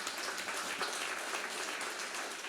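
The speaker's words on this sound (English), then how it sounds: "Round of applause for our guests." An audience at a business talk about Swiss headquarters claps steadily for its guests, a dense, even wash of applause at moderate loudness with no voices over it.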